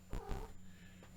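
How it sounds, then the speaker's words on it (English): A cat in a video game gives a brief, close, throaty purr-like rumble in two quick pulses, then fades into low background noise. "Let's let my cat out."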